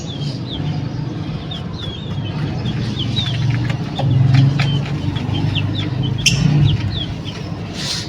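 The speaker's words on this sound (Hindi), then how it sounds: "नीचे चूजे जो है वो बाजरा मांग रहे हैं" Chickens and chicks around millet feed, high chirping peeps from chicks repeating throughout with lower clucking from hens underneath, close by in a steady background.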